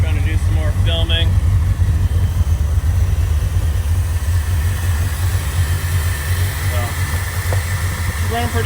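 A Chevrolet Corvette engine idles while warming up, a close, steady low rumble that holds even throughout, with a faint voice briefly in the background.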